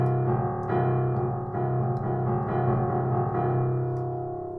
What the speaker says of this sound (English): the song that I was taught to help me recognize a second is the opening of